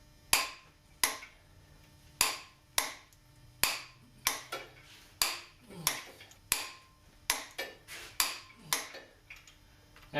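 A torque wrench tightens the flywheel bolts on a Nissan 240SX, giving a series of sharp, close metallic clicks, about twenty over several seconds, in uneven bursts with short ratcheting in between.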